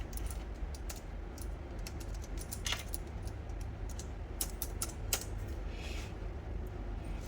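Keys tapped on a computer keyboard while entering a login and password, in quick irregular bursts of clicks at close range over a quiet room hum.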